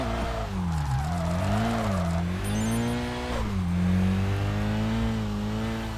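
Revving car engine and tire squeal during a handbrake drift in the racing game Kaido Racer 2, a loud engine whose pitch rises and dips as the car slides, with a sustained screech through the turn.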